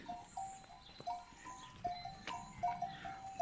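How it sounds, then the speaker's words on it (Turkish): Several small bells clank and jingle irregularly among sheep and lambs moving past, with soft hoof shuffling and faint animal sounds nearby; no talking. "Kuzular ve koyunlar gidiyor."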